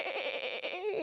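A human voice imitates a zebra call with a brief, wavering, bleat-like cry lasting about a second, close and fairly loud.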